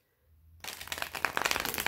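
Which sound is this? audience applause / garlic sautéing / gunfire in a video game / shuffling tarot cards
shuffling tarot cards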